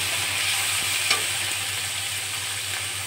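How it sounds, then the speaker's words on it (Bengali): Green chili and tomato stir-fried in a pan for an egg potato curry, a dense, even sizzle held close and steady, with a single soft scrape partway through. "কাঁচা লঙ্কা আর টমেটো, দিয়ে ভালো করে মারবো"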